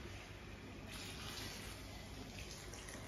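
Water from a ground coconut masala poured into a cooking pan for a stuffed eggplant dish, a continuous close splashing pour lasting a few seconds.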